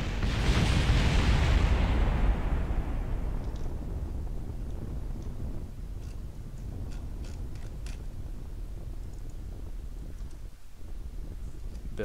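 Rocket engine firing at launch in a space-flight video game, a loud broadband roar swelling at ignition and then settling into a steady sustained rumble with faint ticking clicks above it.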